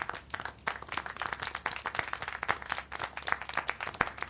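Clapping in the video game Syberia: The World Before, a quiet, dense patter of many quick hand claps that stays fairly even and continuous with no talk over it.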